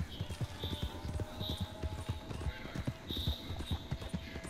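A horse's hooves clop rhythmically at a steady run in the Red Dead Redemption 2 video game, moderately close, with faint background sounds and a voice briefly present.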